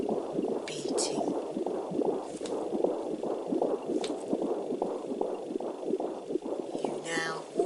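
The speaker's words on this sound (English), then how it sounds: "In the background you can hear the heartbeat of you when you were a baby" A newborn baby's heartbeat throbs in a steady, even rhythm across the whole stretch, a low repeating thump that is close and continuous, with no talk over it.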